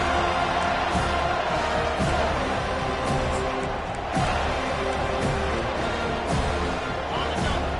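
A home crowd roars and cheers in a football video game on a defensive third down, a dense, sustained stadium noise with rising swells under a commentator's talk.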